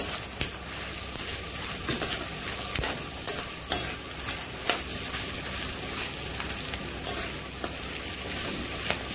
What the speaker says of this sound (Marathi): चला असं मस्त भाजून घेतलेला आहे मसाला.